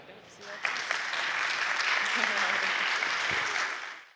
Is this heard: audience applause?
yes